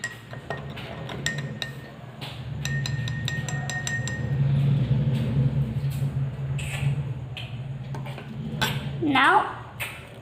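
Salt being stirred into water in a glass with a spoon, giving a run of light clinks and taps of metal on glass that scatter through, over a low background hum and under children's voices.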